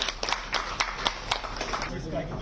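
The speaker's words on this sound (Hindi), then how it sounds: "ताली रुकनी नहीं चाहिए।" A small audience at a party workshop in Bihar clapping in short, uneven bursts, moderately close, with sharp individual claps standing out over room noise.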